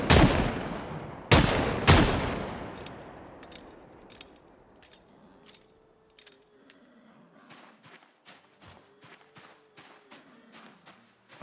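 Project Zomboid gunfire opens with three loud, booming shots that ring out and decay, followed by a long string of fainter, sparser pops and clicks under a low background.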